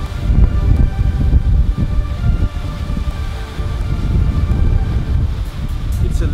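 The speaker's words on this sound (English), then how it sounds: "It's a little windy here today." Strong wind buffets the microphone in a continuous low rumble, loud and close, with no pauses.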